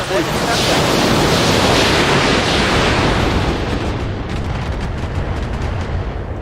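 A volley of long-range missiles fires in the BattleTech video game, a loud, dense roaring rush of launches and blasts sustained throughout, easing slightly with scattered crackling impacts toward the end.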